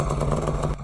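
A mini bike engine fitted with a 7-foot exhaust and 3-foot intake runs at steady revs, a loud, close, buzzing drone with a rattly pulse that drops off sharply near the end.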